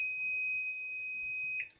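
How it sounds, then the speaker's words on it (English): A digital multimeter beeps on a continuity test across a cable: one sustained, piercing electronic tone that holds for about a second and a half, then cuts off abruptly. No one speaks. "nice annoying beep noise so that I know that that cable is definitely working"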